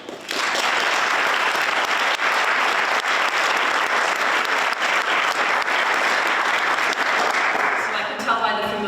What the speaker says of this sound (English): Familiar applause